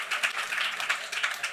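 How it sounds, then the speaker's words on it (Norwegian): Audience applause at a youth party leaders' debate, a short burst of dense clapping at steady volume with no speech over it. "Prøve å vente først til applausen har lagt seg"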